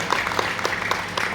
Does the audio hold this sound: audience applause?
yes